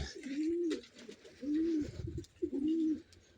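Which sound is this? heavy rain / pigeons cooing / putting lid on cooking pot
pigeons cooing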